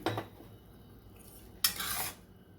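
A metal spoon scrapes and clanks against a pan as cooked tomato-carrot masala is scooped into a bowl, with a clink at the start and a louder scrape near the end.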